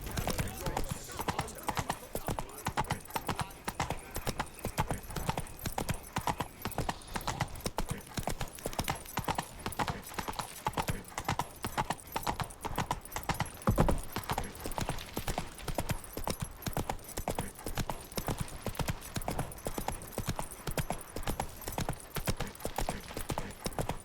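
Roach, the horse in The Witcher 3: Wild Hunt, trots along with steady clip-clopping hooves throughout, mixed with game ambience and spoken dialogue.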